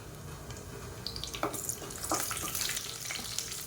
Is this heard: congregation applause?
no